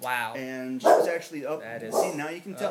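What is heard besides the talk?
dog barking, former pit fighter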